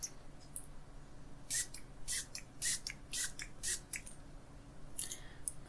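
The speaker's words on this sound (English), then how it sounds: "I'm just going to spritz this above your head" Lavender essential oil spray spritzed above the head in a quiet room, several short hissing puffs in a row, then a couple more after a pause, soft and close.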